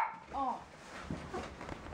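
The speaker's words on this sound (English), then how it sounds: "I'm gonna shut the dogs up." Dogs give a short bark and yip near the start, followed by fainter whimpering sounds, close by in a quiet indoor room with a voice mixed in.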